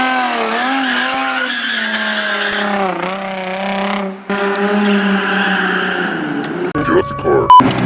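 A car drifts with long, wavering tire squeals that shift pitch and break off, followed by scraping, rattling noises near the end, loud and close, with people talking over it.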